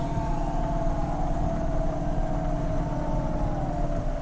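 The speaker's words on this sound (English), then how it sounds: "And that siren's off in the distance." A distant siren sounds in the Cloudpunk video game, a steady wailing tone held under a constant engine-like drone, with no voices over it.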